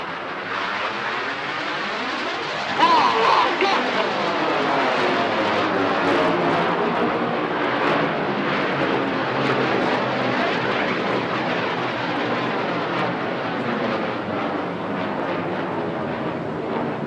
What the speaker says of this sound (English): The synchro pair now once again will dive down for their final manoeuvre, only 100 feet over the sea.